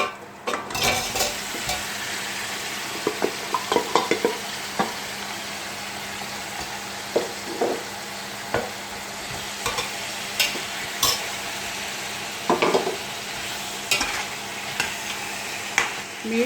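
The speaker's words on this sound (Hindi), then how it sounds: "अब इसको 5-10 मिनट फ्राई भून लूँगी अच्छी तरह से और मज़ीद कुछ मसाले ऐड करूँगी।" Mutton pieces frying in a pot with ginger garlic paste, a steady sizzle broken by repeated scraping and stirring clatters, close and fairly loud with no voices.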